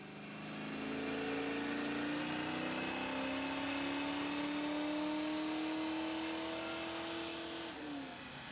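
Foxbody Mustang V8 on a dyno under nitrous, held at loud sustained full throttle with a steadily rising engine note for about eight seconds, then dropping off sharply as the run ends.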